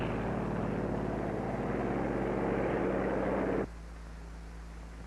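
Aircraft engines drone steadily as control planes take off from an aircraft carrier, a loud broadband roar with a low hum that drops sharply to a quieter rumble near the end.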